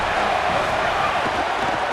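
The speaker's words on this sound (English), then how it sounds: "This crowd ready to make its presence known." Steady, dense stadium crowd roar from a College Football 27 game, BYU visiting USC, a continuous broad wash of massed voices holding level throughout without distinct cheers or individual calls.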